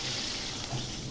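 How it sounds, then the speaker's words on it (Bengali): Water poured into a pan while making katla fish curry: a short, steady splashing pour, close and moderately loud, with no talk. "এবার পরিমাণ মতো জল দিয়ে দিলাম"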